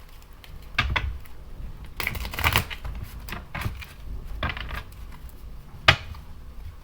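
Bursts of tarot cards being shuffled, brisk riffles and soft slaps, close by and irregular, with short pauses between handfuls.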